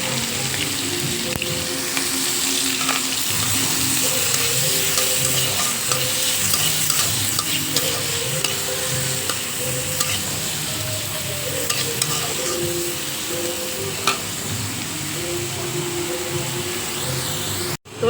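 Onion and green chillies frying and sizzling in a pan for a bitter gourd fry, with steady close crackle and stirring scrapes throughout, faint background music, no speech.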